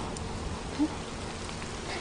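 Steady rain pours down in an outdoor scene, a dense, even hiss that holds constant throughout with no voices over it.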